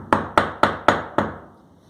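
A hammer striking a center punch on a car axle part: five sharp metallic blows at an even, quick rhythm, close and loud, the last ringing out and fading.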